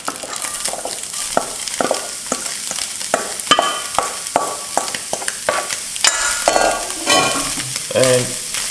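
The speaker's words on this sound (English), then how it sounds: "The next thing I will do is add the onion." Chopped onion hits browned, caramelized beef in a stew pot, loud steady sizzling with repeated scraping stirs of a spoon against the pot, close and continuous with no talk.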